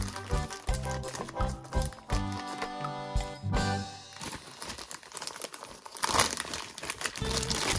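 Plastic mystery blind bag from a Pikmi Pops Bubble Drops toy crinkling as it is torn open, with dense rustling and crackling throughout amid brief toy clicks, close and fairly loud.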